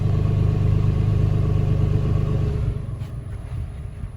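A 4-liter V6 car engine idles on a stock exhaust with a steady, smooth low rumble close by, easing slightly quieter toward the end.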